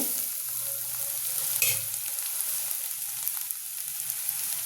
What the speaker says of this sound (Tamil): வெங்காயம் போட்டுடலாம். இப்போ நல்லா வதக்கிடலாங்க.